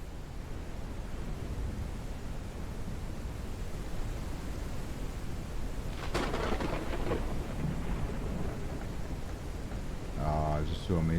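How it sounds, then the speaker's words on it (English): Thunderstorm in the survival game Forever Skies: a steady wash of rain and wind noise with a rolling crack of thunder midway, and a voice briefly speaking near the end. "Oh, of course there's a storm coming."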